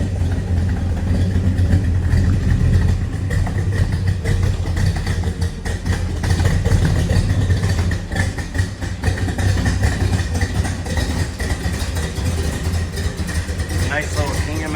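A 1965 Pontiac GTO with a 389 Tri-Power V8 and four-speed idles with a deep, loud, lumpy rumble that stays steady throughout while people talk over it.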